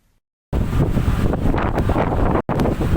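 Storm wind with heavy rain at Merak harbour, Indonesia, near a dock gangway: loud, close, roaring buffeting that starts abruptly after a short silence and drops out for a moment near the end.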